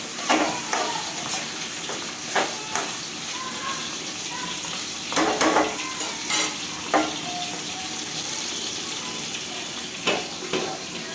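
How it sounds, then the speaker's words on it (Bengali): Fish frying in a pan of oil in a home kitchen, a continuous close hiss of sizzling with repeated scraping and clattering of a spatula in irregular bursts, no voices. "মাছ ভাজা কিন্তু প্রায় হয়ে গেছে,"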